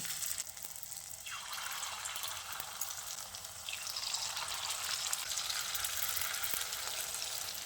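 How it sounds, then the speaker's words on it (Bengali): Spoonfuls of egg batter dropped into hot oil to fry as pakoras, giving a steady bright hiss and sizzle that swells slightly as more batter goes in, with a few faint clicks. "তারপর এই যে ডিমের মিশ্রণ থেকে এইভাবে চামচের সাহায্যে অল্প অল্প নিয়ে পকোড়ার আকারে দিয়ে দিচ্ছি।"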